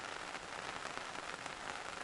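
Steady rain falls at a fishing spot, a dense, even hiss of drops with soft patters throughout, fairly close and without any talking.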